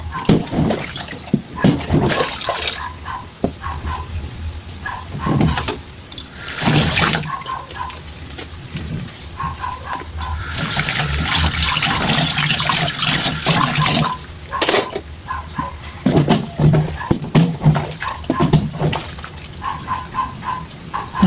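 Dishes are washed at a kitchen sink and the clogged drain is plunged, with running and splashing water, wet gurgling pumps and scattered clatter coming in uneven bursts, and some voice underneath.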